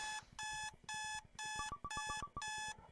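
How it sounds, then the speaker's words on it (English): Alarm clock ringing in the Butterfly Soup video game, repeated loud electronic beeping bursts in a regular on-off pattern, with faint blips layered in the middle. "Daya hits her alarm"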